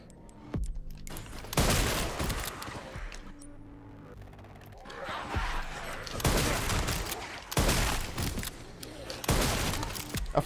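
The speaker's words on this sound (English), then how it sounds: "I forgot how slowly this shotgun fires when you don't have any upgrades." Shotgun fire in the Resident Evil Requiem horror game, weapon without upgrades, several loud booming blasts spaced slowly apart with clattering handling and reload noises in between.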